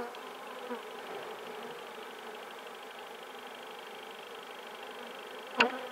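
Bees hum in a steady, continuous drone around a beehive at an apiary, with a faint buzz holding evenly throughout and one sharp knock near the end.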